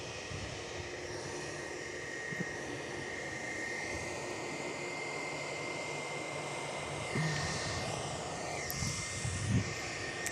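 A Qantas airliner departs Perth Airport, its jet engines giving a steady distant roar that swells slightly toward the end, heard alone without talk.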